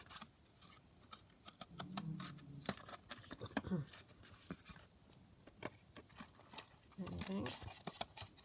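Scissors snipping around the edge of a paper junk journal cover, a run of close, crisp cuts in short bursts, with someone talking briefly between them.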